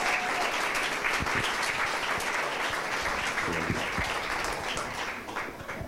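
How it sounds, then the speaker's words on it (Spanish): A church congregation claps steadily and loudly during worship, a dense continuous wash of many hands close around, with no one speaking over it. "Denle un aplauso al Señor."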